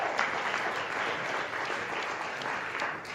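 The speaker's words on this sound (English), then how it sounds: "Round of applause." Steady, dense applause from an audience welcoming a speaker at an Ignite Cincinnati talk, sustained at an even level throughout with no voices over it.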